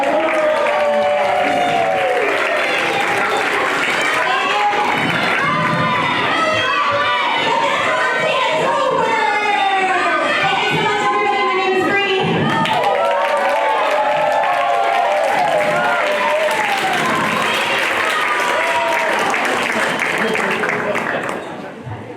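Audience at a magic show in Hawaii claps and cheers loudly and continuously, with excited shouts and children's voices over the dense applause before it fades at the end.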